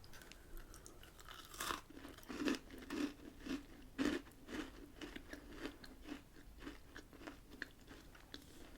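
A crunchy biscuit bitten and chewed close up, quiet repeated crunches and soft chewing, with a firmer bite near the start and steady crunching that fades toward the end, heard without any talk.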